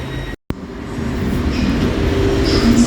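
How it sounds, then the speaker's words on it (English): Class 717 train on the Welwyn Garden City line at Old Street station, a steady low rumble and hum of the underground-level train building slightly, with a brief dropout near the start. "So we're going to jump on the Welwyn Garden City train now"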